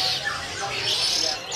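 Caged songbird chirping at a kiosk in a bird market, with bright bird calls filling the moment over a busy, murmuring crowd and faint voices nearby.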